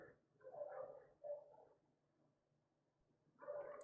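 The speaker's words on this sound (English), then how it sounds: "Oh, my dogs are going to start barking for some reason." Dogs barking out in a residential street, a few short muffled bursts at a distance, faint and separated by quiet pauses.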